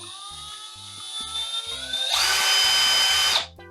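Cordless battery drill whirring steadily, its pitch rising as the motor speeds up to full power near the end before stopping abruptly; close and loud, with a faint rhythmic background beat.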